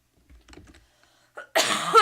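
A few faint soft sounds, then a sudden harsh burst of a cough near the end, loud and close.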